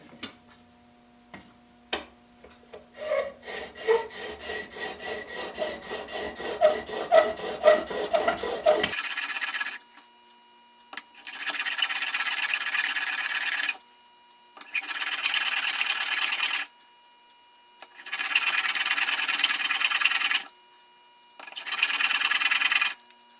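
A plane iron from a Union transitional plane being sharpened on a coarse stone: quick rhythmic ticking strokes at first, then four long gritty rubbing passes separated by pauses, close and clear with no talk.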